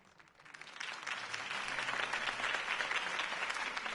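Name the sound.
crowd applause after Harvey Dent speech, from video game Batman Telltale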